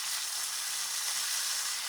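Garlic ginger chicken sizzling hard in a hot pan, a dense, steady bright hiss and crackle throughout, loud and close with no voices.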